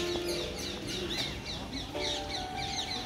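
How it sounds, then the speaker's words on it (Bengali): Many birds calling and chirping together at a small zoo, a dense, continuous chorus of overlapping tweets and harsher caw-like calls, fairly close and steady throughout. "প্রবেশ করার পর প্রচুর পাখির মিষ্টি আওয়াজ আপনার কানে আসবে।"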